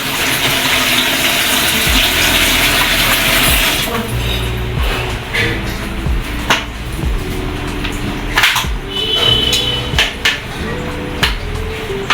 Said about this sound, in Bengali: ছয় নম্বর ডেয়ারটা হলো এই যে স্লাইসার তোকে ধুতে হবে